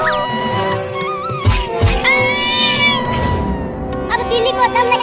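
Cartoon-style cat meows, high and drawn out, rise over busy background music and animated voices.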